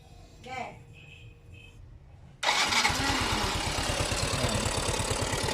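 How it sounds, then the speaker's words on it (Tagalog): A Yamaha Mio i 125 scooter engine cranks and catches after a quiet moment, then settles into a steady, smooth idle with an even low pulsing that continues to the end. "Tingnan niyo yung kanyang andar sa 5859, napaka-smooth, napakaganda ng minor."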